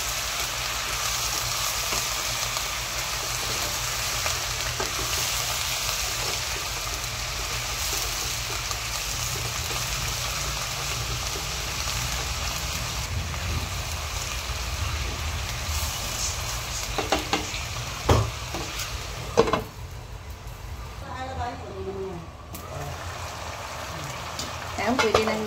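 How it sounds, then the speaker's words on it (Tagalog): Pork adobo frying in a pan while being stirred, a continuous close sizzle with scraping and stirring strokes that grow more distinct toward the end. "Haluin natin. Para di masulo."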